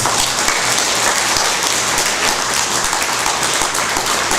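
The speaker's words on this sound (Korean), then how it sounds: "어떻게 박수를 안 치십니까?" Congregation applause at a church service, a loud, continuous, dense wash of clapping that holds steady for several seconds without a break.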